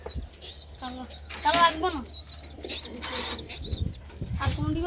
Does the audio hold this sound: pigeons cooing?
yes